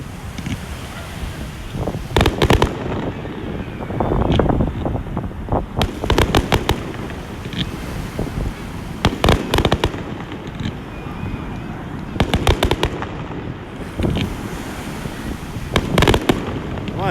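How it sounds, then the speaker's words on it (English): Fireworks burst over Coney Island in a loud outdoor display, volleys of crackling booms coming in clusters every couple of seconds amid steady wind noise and crowd murmur. "Enjoy the fireworks."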